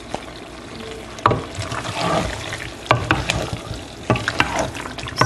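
Baby potatoes get stirred in a hot vegetable pot, with irregular knocks and clatters over a soft, continuous frying sizzle, close and without speech.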